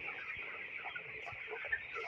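Broiler chickens on a farm, about 21 days old, keep up a constant chorus of soft clucks and chirps, fairly quiet and steady, with faint speech underneath.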